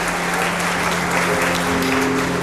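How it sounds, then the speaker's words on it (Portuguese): A church congregation claps steadily and loudly throughout, a dense, even wash of applause filling an indoor space, with a faint tone lingering underneath. "Aplauda Ele em nome de Jesus."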